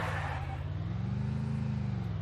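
A vehicle in the video game Free Fire drives with a low, droning engine hum that rises slightly in pitch, steady and close, with no talking.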